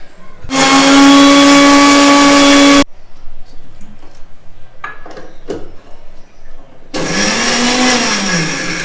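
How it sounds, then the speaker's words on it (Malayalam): A kitchen mixer grinder grinds garlic, turmeric and chilli powder in two loud, steady whining bursts with a pause between, during which faint clinks and handling sounds are heard. "നന്നായിട്ട് മിക്സിയിലിട്ട് അരയ്ക്കുക"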